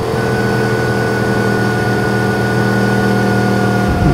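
A Yamaha MT-10 with its crossplane-crank engine thrums steadily at close range, a loud, even, low-pitched drone that barely changes before dropping off at the very end.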